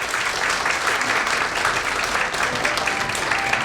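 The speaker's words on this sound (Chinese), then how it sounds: "请再次鼓掌" A ceremony audience claps steadily in dense, continuous applause at a university president handover in Tainan, filling the whole moment without pause.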